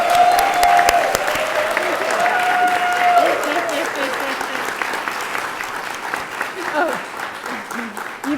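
A congregation clapping at a Sunday service, a full room of steady applause that holds loud for several seconds and slowly tapers, with a voice speaking over it near the start.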